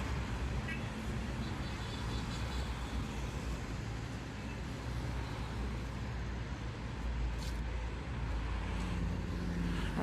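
Traffic on a city seaside corniche road in Alexandria flows past continuously, a dense broadband roar of cars rolling by at moderate distance.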